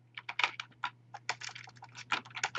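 Rapid typing on a computer keyboard, a fast irregular run of crisp close key clicks with brief pauses, over a faint steady electrical hum.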